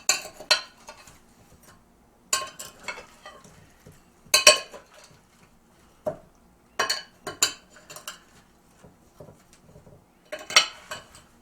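A spoon or utensil knocking and scraping against a bowl as sugared, salted strawberries are gently stirred, in scattered clinks and taps with quiet gaps between them, close and without talk.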